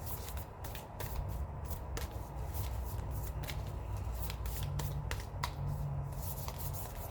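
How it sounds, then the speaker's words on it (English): Tarot cards being shuffled by hand, a run of crisp riffling and snapping bursts over a steady low background hum, close up and unbroken for several seconds with no voices. "just as I was shuffling the cards"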